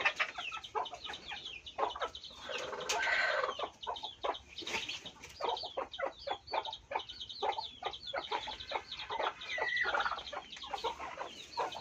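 A desi egg-laying hen clucks in a steady run of short, close calls, joined by other fowl in a farmyard, with a brief louder squawk partway through and no talk.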